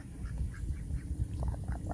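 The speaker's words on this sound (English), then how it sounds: "Hey, ducks." Ducks quack softly in a backyard garden, several faint scattered calls over a low rumbling background, with no talking.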